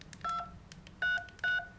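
LG V60 smartphone keypad, T-Mobile model, giving three short DTMF dialing tones, steady and clear, with brief taps and small clicks between them and no talking.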